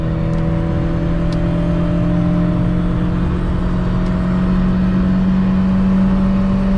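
A Volkswagen Gol 1.6 AP four-door car accelerating hard in second gear, its engine droning loud and steady from inside the cabin as the pitch slowly rises under continuous road rumble.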